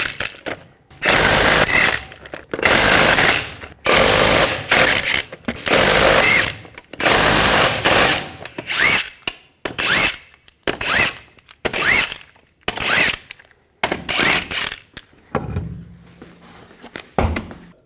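Six 21mm lug nuts come off the front wheel of a 2004-2008 Ford F-150, heard as a run of loud, close, roughly one-second power-tool bursts separated by short silences, ending with a quieter rattle.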